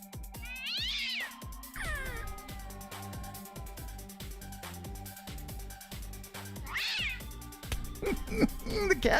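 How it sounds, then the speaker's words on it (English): A long-haired cat meows repeatedly in sharp, rising cries, with drone propellers tangled in its fur; the meows come in bursts near the start and again toward the end over a steady mechanical hum and faint background voices. "The cat's running with a drone stuck on its butt."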